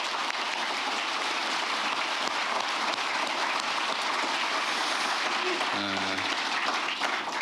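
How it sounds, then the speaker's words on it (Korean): A gathering of public officials claps for their colleagues in a long, dense round of applause that stays steady, with a short voice near the end as the clapping carries on. "우리 동료들을 위해서 박수 한번 부탁드립니다."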